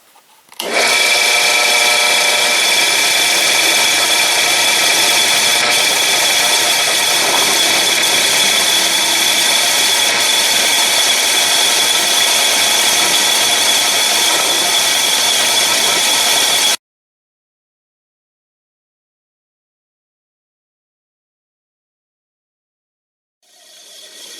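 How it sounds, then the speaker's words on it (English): A power drill drilling through metal whines loudly and steadily for about fifteen seconds, then cuts off abruptly into silence before starting up again at the end. "Now let's go over there and drill through."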